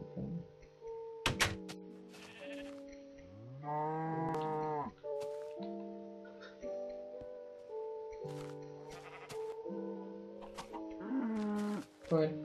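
A Minecraft cow moos several times in drawn-out, tonal calls, with clicks and thunks between them and someone talking over parts of it.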